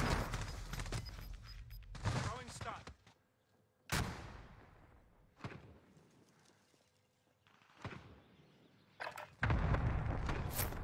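Video game gunfire during a live-streamed tournament match comes in sharp, loud bursts and single cracks at irregular intervals, with quieter stretches between volleys.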